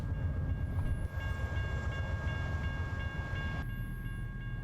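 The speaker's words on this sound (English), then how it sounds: "And a train that's going to slow us down." A train rumbles steadily past in American Truck Simulator, a loud, continuous rolling drone with faint tonal hum that holds for several seconds, with no talk over it.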